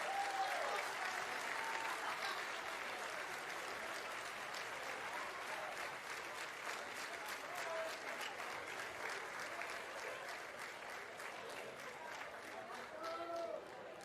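A crowd at a high school commencement applauds its graduates with sustained, dense clapping that fills the whole stretch at a fairly even level, with scattered cheers mixed in.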